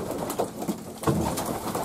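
Racing pigeons bathing in a water tub give repeated close coos and soft splashes and wing flutters, fairly loud and irregular, with no talking.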